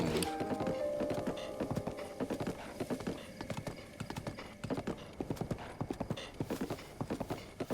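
Horse hooves clip-clopping at a run in Zelda: Breath of the Wild, a fast continuous rhythm of close, steady hoofbeats with a brief whinny at the start and faint game sounds underneath.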